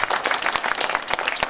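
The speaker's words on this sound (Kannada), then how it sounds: "ಆ ಸಂಗೀತಗಾರರಿಗೆ ಒಂದ್ಸಲ ಜೋರಾದ ಚಪ್ಪಾಳೆ ಇರು" An audience at a Kannada stage play (natak) in Hadagali gives a short burst of scattered, brisk clapping for the musicians, with moderately loud hand claps overlapping.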